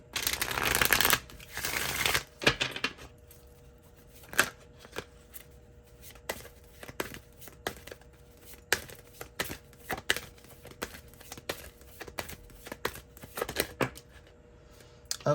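Tarot and oracle cards are riffled in a brief loud shuffle, followed by a long run of soft, scattered taps and flicks as cards are handled and drawn from the decks.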